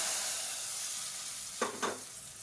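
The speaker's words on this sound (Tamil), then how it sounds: "இப்போ இந்த தாளிப்பு வடகத்தை சேர்த்துக்கலாம்." Tempering vadagam hits hot oil with a steady sizzle and frying hiss, and two brief louder crackles are heard near the end.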